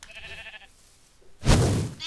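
A Minecraft sheep gives one loud, close bleat near the end, after a stretch of quieter tonal game sounds, with no talking over it.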